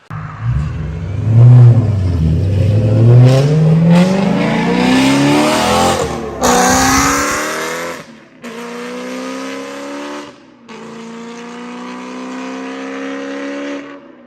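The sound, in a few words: BMW M3 engine revving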